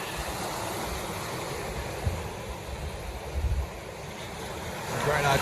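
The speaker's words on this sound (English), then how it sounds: "More films of waves." Waves wash in at Kellys Beach in Kouchibouguac National Park, a continuous broadband surf hiss with a few low thumps and a swell near the end, heard close by in open outdoor air.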